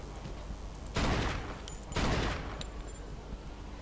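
Two loud, booming bursts of gunfire in the video game Mafia 2, about a second apart, each fading out over a steady background, with a faint high ping in between.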